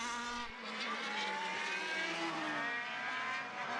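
Formula BOSS racing cars screaming down the main straight of an Irish circuit, a loud sustained high-revving engine whine with rising and falling pitch as the cars chase each other past.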